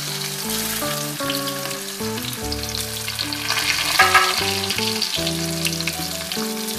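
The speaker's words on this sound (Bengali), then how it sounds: "এবার দিয়ে দেব এর মধ্যে পেঁয়াজটা।" Onion sizzles steadily in hot oil with cinnamon and cardamom, a continuous frying hiss heard over background music with a brief stir near the middle.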